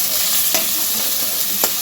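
Food fries loudly in a pan, a dense close-up sizzle with two quick stirring scrapes and no voices.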